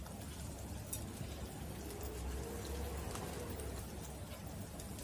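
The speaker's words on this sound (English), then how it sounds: "Now saute the veggies for 1 to 2 minutes" Shredded cabbage, capsicum, onions and carrots sizzle and crackle in a hot pan, a dense, steady, rain-like frying hiss close up with no talking.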